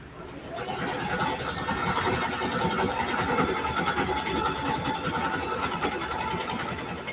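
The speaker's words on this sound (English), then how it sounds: "And I'm going to sew across. Twice." Home sewing machine stitching across a quilted backpack, a steady close rapid mechanical whir running throughout.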